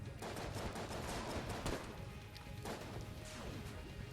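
An alien cannon fires in the twin-stick shooter Enter the Gungeon, a quiet run of sharp, crashing bursts in quick succession with a couple of heavier blasts, heard faintly and without talk.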